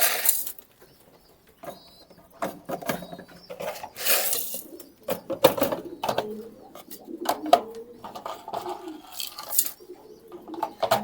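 Domestic pigeons in a loft give soft repeated coos among scattered bird calls and shuffling, moderately close, with brief bursts of activity throughout.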